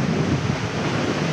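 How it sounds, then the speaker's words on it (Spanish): Sea water surges and splashes loudly inside coastal caves at Gandoca-Manzanillo Wildlife Refuge in Limón, Costa Rica. It is a continuous, close roar of churning surf with a deep low rumble. "entra el agua y sale ahí en el splash muy fuerte"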